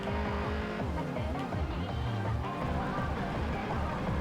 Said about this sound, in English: I like the sound though for the Civic on this car.